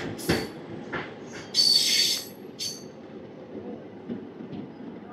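The Circar Express at Anaparthi railway station gives off intermittent metallic clanks, hisses and a sharp squeal over a low rumble, nearby and uneven.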